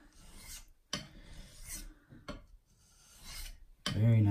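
Knife edge honed on a natural whetstone, several close, loud rasping strokes in a steady back-and-forth rhythm with short silent gaps, the last stroke running into a louder, harsher scrape.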